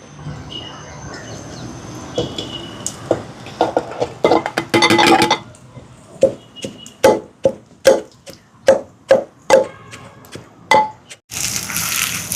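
Coconut sambal ingredients, Jaffna style with grated coconut, pounded in a mortar: a run of sharp, rhythmic thuds and knocks, loud and close, at first quick and clustered, then steadier single strikes.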